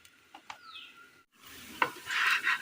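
Kerala-style dish sizzling in a hot pan just after being flipped, a few light clinks first, then a steady bright frying hiss that swells up close with no talking.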